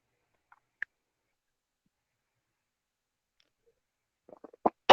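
Stomach rumbling from a gas bubble, a few faint gurgles and clicks scattered through near silence, building to a short cluster of louder close gurgling squelches at the end.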